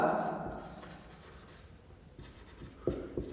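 Marker or chalk writing on a board, short faint scratchy strokes in bursts, with a voice speaking at the start.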